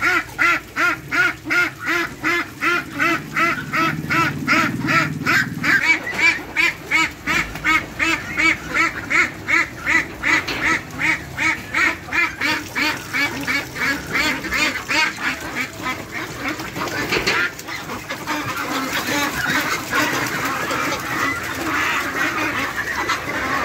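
A flock of ducks at a duck market stall in Cibitung, Bekasi, quacking continuously and loudly up close, a dense overlapping chorus with a steady pulsing rhythm.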